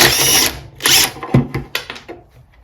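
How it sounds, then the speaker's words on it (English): A pneumatic impact wrench rattles 2 1/2-inch bolts loose while stripping down a 1960 Bolens Ride-a-matic garden tractor, sounding in several loud, close bursts of hammering with short gaps between them. "So just whack these out with the impact."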